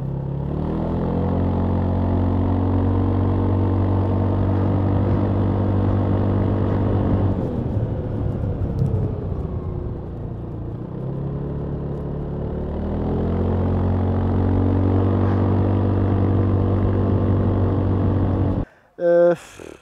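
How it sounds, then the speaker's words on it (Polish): Kymco Downtown 350i scooter idling, its exhaust giving a steady, fairly loud low purr that softens and dips in the middle before returning, ending with a brief clatter. "Wydech też nie jest za głośny, całkiem przyjemnie sobie działa,"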